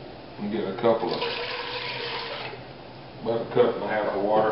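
Tap water runs into a cooking pot for chili that already holds tomato sauce, a steady close splashing stream with clattering pot sounds, while someone talks over it.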